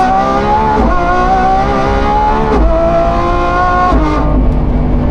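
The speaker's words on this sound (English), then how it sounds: "If you downshift like this, third gear, second gear, and you shift like this" Lamborghini Revuelto fitted with a Gintani exhaust, loud and close, its engine note stepping through a series of downshifts with sharp rev changes and brief breaks between gears, no talking.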